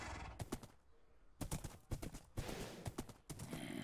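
Horse hooves clip-clop in bursts of steady rhythmic steps in a video game, close and fairly loud, with brief gaps between runs of hoofbeats.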